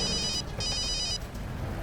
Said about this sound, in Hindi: दया सर का फोन।